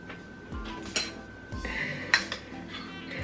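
A spoon scrapes and clinks against a bowl while Duke's mayonnaise is added to cucumber, giving a few close, scattered utensil taps and knocks with short gaps between them.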